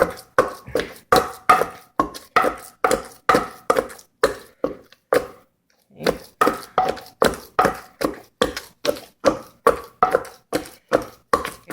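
Rhythmic pounding of ingredients in a mortar for Lao sticky shrimp salad (larb goong), steady close thuds roughly twice per second, pausing briefly midway before resuming, with no talking.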